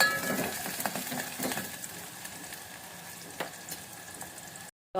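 Onions fry in oil in a pan for a Telugu fenugreek-leaf and tomato dish with moong dal, a steady close sizzle broken by a few light stirring scrapes, then cutting off abruptly near the end.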